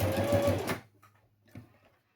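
A brief close burst from a sewing machine stitching a fabric box pouch cuts off after under a second, leaving faint handling clicks in near silence.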